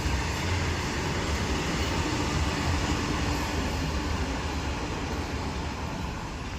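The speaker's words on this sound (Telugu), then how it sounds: "ఇదిగోండి మా మంగళగిరి రైల్వే స్టేషన్." Steady, loud rumble of a train at Mangalagiri railway station, a dense continuous roar of rolling railcars filling the whole stretch without pause and with no voices over it.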